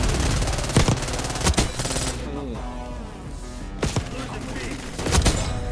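Rapid SMG bursts and heavier shotgun blasts from Call of Duty Black Ops 6, loud and close, with clustered shots in several bursts separated by brief lulls.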